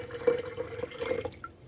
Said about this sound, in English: I'm adding some water that has sat out overnight or for a few days so that the chlorine can evaporate.